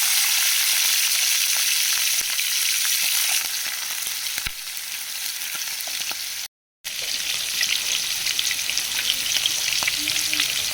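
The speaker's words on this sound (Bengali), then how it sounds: "চিংড়ি মাছগুলো দিয়ে ভেজে নেব" Shrimp fry in hot oil in a wok, giving a loud, continuous sizzling hiss with occasional stirring scrapes; the sound cuts out completely for a split second before the frying resumes at the same level.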